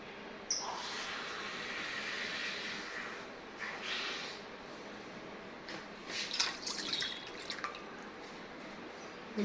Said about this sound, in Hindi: 2 कप पानी दोनों में हम डाल देंगे।